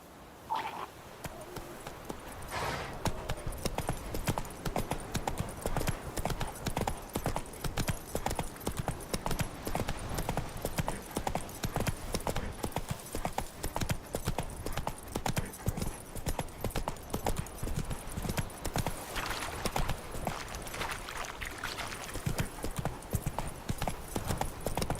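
Roach, a horse in The Witcher 3 video game, gallops steadily with a fast, even clip-clop of hooves running throughout, fairly close and alone after a brief opening call.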